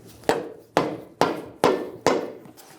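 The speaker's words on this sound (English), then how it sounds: "Using a soft face hammer, we're going to tap it in" Five firm, evenly spaced taps of a soft face hammer striking a CV axle on a Ford Focus, each a dull thud with a short ring, close and clear.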